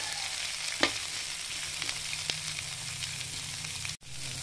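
Egg and bitter gourd frying in a pan, a continuous close sizzle with a few soft knocks and scrapes as the food is stirred, ending in a sudden brief dropout.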